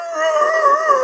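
A person imitates a dog howling, a sustained wavering tonal howl lasting about a second, close and fairly loud with no other sounds.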